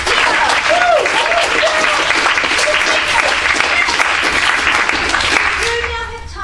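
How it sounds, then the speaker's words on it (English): Sustained, loud applause from an audience at a debate event, clapping filling the room for several seconds after the speakers finish, with faint voices mixed in. "I'd like to thank all the speakers and round a big round of applause."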